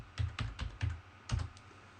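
Keys on a computer keyboard tapped out one by one as a password is entered at a network switch console, about six quiet, close clicks in an uneven rhythm.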